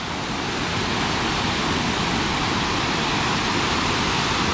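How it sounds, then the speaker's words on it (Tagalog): A forest waterfall pours in a steady, dense rush of white water, constant and fairly close with no other sounds standing out. "Kita na natin yung falls."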